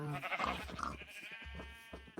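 A sheep in a video game bleats a few times in quick succession, close and fairly quiet, each call wavering and nasal.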